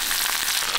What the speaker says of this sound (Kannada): ತೆಂಗಿನೆಣ್ಣೆ ಮತ್ತೆ ಸಾಸಿವೆ ಬೆಳ್ಳುಳ್ಳಿ ಎಲ್ಲ ಹಾಕಿ ಒಂದು ಒಗ್ಗರಣೆ